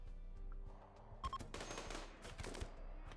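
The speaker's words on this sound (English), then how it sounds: "once they charge head on and I just start shooting them with my guns." Gunfire erupts during a raid in the colony-building game RimWorld, with a pair of sharp shots followed by a dense burst of rapid fire over a steady low drone.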